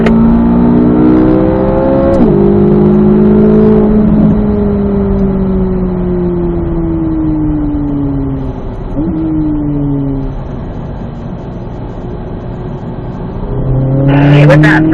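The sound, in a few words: Corvette Z06 accelerating on race track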